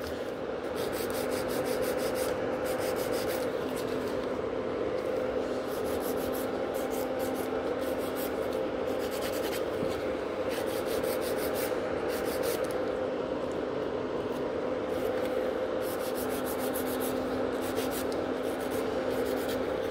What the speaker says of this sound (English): that's why I buff the gel